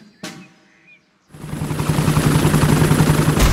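In a Peppa Pig cartoon, after a brief sharp noise and a moment of near silence, a loud rhythmic helicopter rotor thrum starts up and keeps going steadily.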